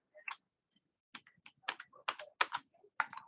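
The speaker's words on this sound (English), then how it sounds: "I think my keyboard is frozen today" Bursts of computer keyboard typing, quick clustered clicks in short runs separated by brief pauses, close and fairly clear with no talking.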